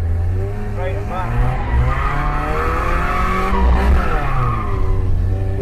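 A Mazda MX5 1.6 drift car revs hard with a rising and falling engine note while its tires squeal and skid continuously and loudly, with people talking over it.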